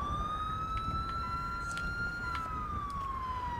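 A steady wailing ambulance siren in GTA 5 rises and falls slowly over a continuous low rumble of engine or road noise.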